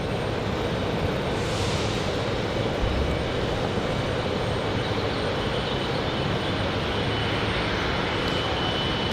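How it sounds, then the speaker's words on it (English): A Boeing 777 airliner arriving from Paris roars steadily and loudly on a windy day at Raleigh-Durham airport. The engine noise stays broad and constant, and no voices are heard. "Triple 7 from France, coming in from Paris"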